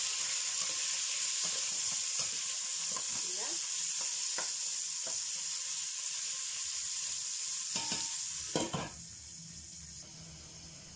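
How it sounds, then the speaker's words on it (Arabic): Chicken fries in oil in a pan for a tajine with potatoes and olives: a continuous loud hiss carries scattered pops and light clinks, then eases near the end. No one speaks. "نخلي غير شويه هكا يتسلى في الزيت"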